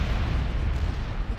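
A bomb blast in the real-time strategy game Halo Wars erupts as a dense, rumbling boom that fills the whole short moment, loud and close with no voice over it.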